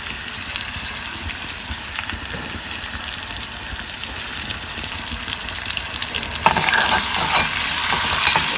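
Chopped onion sizzles in hot oil in a pan for a Koli-style dried shrimp (kolbi) curry, a steady crackling fry that grows louder and brighter as it is stirred near the end.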